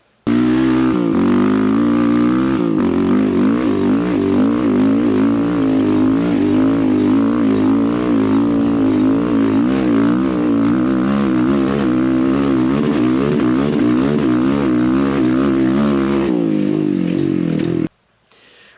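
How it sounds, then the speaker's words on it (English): A Yamaha Raptor 700 ATV engine with an aftermarket exhaust runs loud and close, holding a deep, throaty idle with a slight wavering pulse for about seventeen seconds. It then cuts off abruptly. "I like the sound of the system. It's not very raspy, it has more of a deep throaty tone to it."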